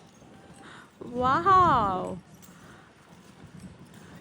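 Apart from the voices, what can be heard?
horse hooves clip-clopping, pulling a tram in Adelaide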